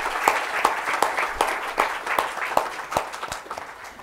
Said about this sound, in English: could you please join me in giving them a big round of applause